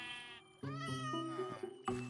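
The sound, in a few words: cat meowing in Minecraft Create mod video game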